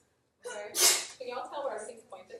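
A single loud sneeze bursts out in a classroom amid a lecturer's speech, with talking before and after it.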